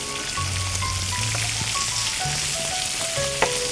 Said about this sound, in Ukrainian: Ось вже Вова зажарює реберця.